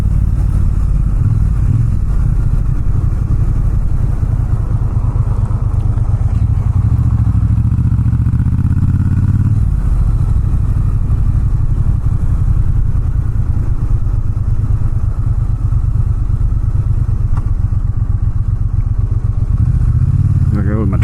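A Triumph Bonneville T120 Gold Line motorcycle riding along, its engine a loud, steady low drone close to the listener, with one brief dip in pitch partway through.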